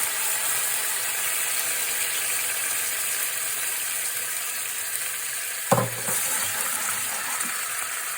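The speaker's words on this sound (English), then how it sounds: "So I'm just going to add that to the hot skillet here." Seasoned tomato puree, spiced with herbs, sizzles loudly and steadily in a hot skillet, with one brief clunk near the end and no voices.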